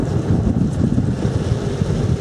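Strong wind gusting across an open rural spot in southern Zala during a cold front, a loud, steady roar with buffeting that fills the clip with no talk.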